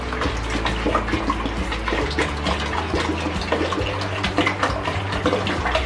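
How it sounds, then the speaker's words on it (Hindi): Water poured from a glass, two to three glassfuls, into a cooking pot of raw mangoes for aam panna, a steady broadband splashing and gushing that stays loud and close throughout with no talk. "तो तकरीबन मैं यहाँ पर 2 से 3 गिलास पानी यहाँ डाल रही हूँ।"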